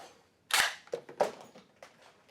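A toy foam blaster loaded with a dozen Rival balls fires a single loud, sharp burst, followed by a few softer clattering knocks as the balls land and scatter nearby.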